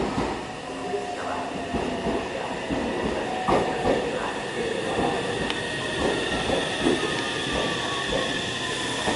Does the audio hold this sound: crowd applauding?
no